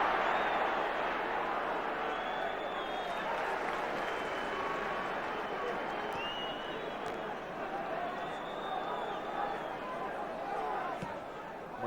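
Distant, steady roar of a large stadium crowd at a 1987 Liverpool v Everton football match, a continuous wash of murmur with no clear cheers.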